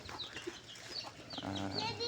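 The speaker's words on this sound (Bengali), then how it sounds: "তার মুরগির বাচ্চাদের খাবার দিচ্ছে।" Soft clucking from chickens close by, with faint rustling and a brief low hum of other farm noise in the background.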